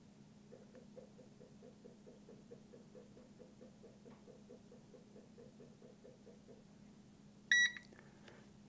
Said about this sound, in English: The unit will beep when you have a successful charge.